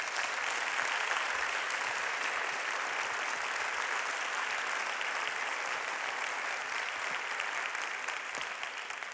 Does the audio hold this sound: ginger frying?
no